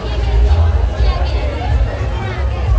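Crowd gathered at the Chhath festival, a loud close babble of many voices with low rumbling background, continuous over a few seconds.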